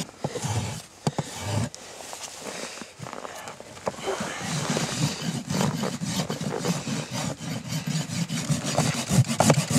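Rasp scraping a horse's bare hoof during trimming, repeated rough strokes that quicken into a steady back-and-forth rhythm, close and fairly loud.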